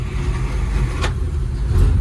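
A 1950 Dodge truck engine, parked for over 40 years, catches and runs with a rough, loud rumble, steady throughout with a brief hissing burst midway.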